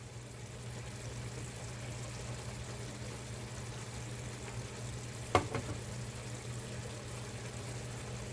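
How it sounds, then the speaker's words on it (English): Chicken, mushrooms, onions and broccoli sauté in a pan with a soft, steady sizzle under a low hum, broken once midway by a sharp utensil clack. "Let those mushrooms saute with the onions and the broccoli and the chicken"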